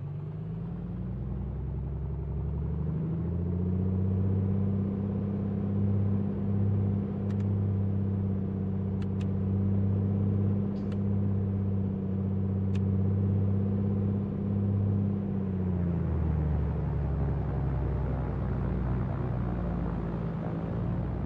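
Piper Comanche light aircraft engine on a takeoff run from runway 34, a loud steady droning hum that holds for most of the stretch and then eases off near the end, with faint brief clicks and no speech.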